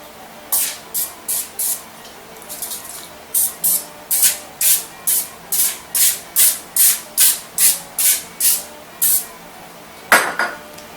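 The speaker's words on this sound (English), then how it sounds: "And give them a quick spray." A run of short, sharp cooking spray bursts onto a paper-lined muffin tin, about fifteen quick hisses in a fairly even rhythm, close up, ending with a metallic clatter.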